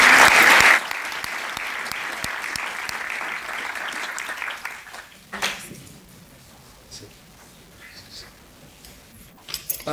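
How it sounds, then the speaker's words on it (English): Applause for a commissioner at a sustainability summit, loud at first and then a steady crowd clapping for several seconds before tapering into quiet room noise with a few scattered claps. "Please give him a round of applause as he comes down."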